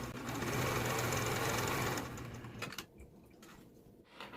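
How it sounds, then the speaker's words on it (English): An old sewing machine runs a zigzag stitch with a stretch needle along a garment's shoulder seam. It whirs steadily and closely for about two seconds, then slows into a few separate clacks. "I'm going to go ahead and using that zigzag stitch and my stretch needle, I'm going to sew right sides together."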